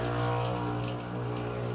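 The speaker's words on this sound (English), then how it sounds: "It's sucking more water in." A Jura ENA 4 espresso machine drawing in water during cleaning, a steady humming pump with a gurgling, rushing flow, fairly close and continuous.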